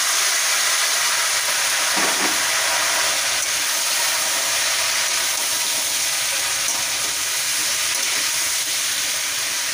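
Pieces of young jackfruit fry in oil in a pan, producing a loud, even, continuous sizzle and hiss with a brief clatter early on.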